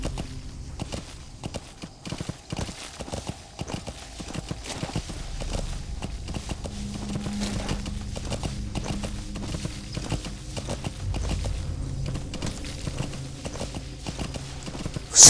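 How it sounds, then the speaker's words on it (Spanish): Horse hooves clip-clopping at a walk in the video game Metal Gear Solid V, a steady, close rhythm of hoof strikes continuing throughout over a low ambient rumble, with no talk. "Caballo."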